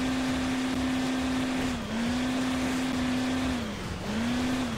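Engines in the Hill Climb Racing 2 video game whining at a steady high pitch as the cars pull away, the tone dipping twice under a constant electronic hiss.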